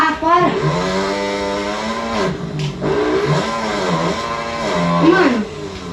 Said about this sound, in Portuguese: aquela motinha é muito rápida.